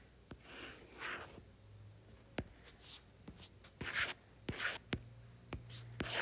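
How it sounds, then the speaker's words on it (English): Pen or marker strokes drawing a unit circle while solving trig equations, soft scratchy scribbles with sharp taps, quiet and close, no talking. "we'll go ahead and draw that unit circle"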